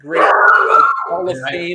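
A golden doodle barks and yips close by at home, overlapping a man's steady speech throughout the short stretch.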